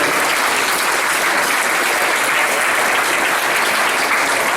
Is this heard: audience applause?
yes